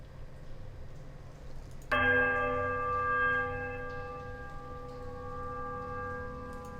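A church bell tolls in the Pillars of Eternity video game, a single loud, sudden strike over quiet ambience, its bright ringing overtones sustaining and slowly fading for several seconds.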